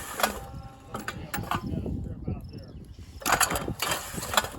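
An MEC wobble trap clay target machine runs at maximum setting, giving clanking, whirring mechanical bursts and rattles that rise and fall over a few seconds, fairly close, with no clear speech.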